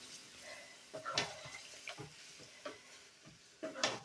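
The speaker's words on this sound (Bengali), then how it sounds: "এই চিকেনটা কিন্তু এই তেলের মধ্যে দিয়ে দেব" Chicken marinated in malai and spices frying in hot oil, a soft steady sizzle broken by several brief stirring scrapes and clinks of the pan, close up with no talk.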